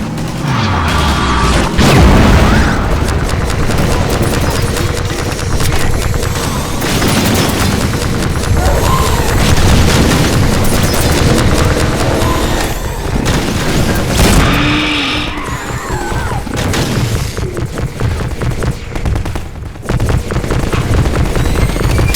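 Rockets explode and gunfire crackles while fighting a Strider at a sawmill in Half-Life 2: Episode Two, loud booms and rapid bursts piling up over a continuous roar of battle, with brief talk between blasts.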